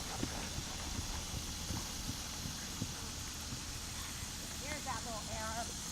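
Horse hooves clip-clop steadily as a mare is ridden in a dressage-style session, the rhythmic footfalls sitting under continuous background noise, with a few faint bird chirps near the end.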